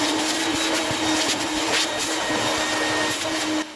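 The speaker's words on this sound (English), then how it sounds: "I'm going to go ahead and shop vac up all the extra balls that fell out" A shop vac roars steadily, close and loud, as it sucks up loose dishwasher bearing balls, with faint rattles of balls passing through before the motor cuts off at the end.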